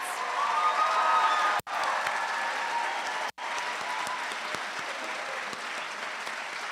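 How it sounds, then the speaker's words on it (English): A commencement audience applauds the final group of graduates at a high school ceremony, broad continuous clapping from a large crowd that briefly cuts out twice before carrying on evenly. "Let's have a round of applause for the final group of graduates"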